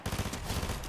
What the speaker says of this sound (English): Another advantage of the burst SMG.